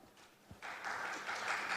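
Audience applause welcoming a speaker at a digital healthcare forum: a brief quiet moment, then clapping starts and swells into a steady, moderately loud round that continues to the end.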